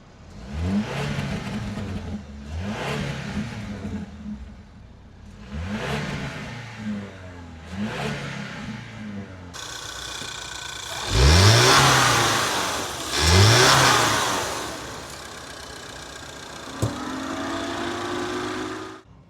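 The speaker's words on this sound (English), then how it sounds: "Under the hood of our Edge here, we got the 2-liter EcoBoost turbo engine that makes 250 horsepower and 275 pound-feet of torque." A Ford Edge's 2-liter EcoBoost turbo engine is revved repeatedly under the hood, four rising-and-falling blips followed by two harder, louder revs, then a steady idle with a whirring note, close and loud.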